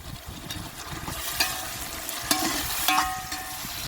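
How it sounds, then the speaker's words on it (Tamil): Tomatoes with green chillies, mint and coriander sautéing in a pan, a steady soft sizzle with a few brief scraping stirs, close and alone. "தக்காளி நல்லா மசிய வதங்கணும்."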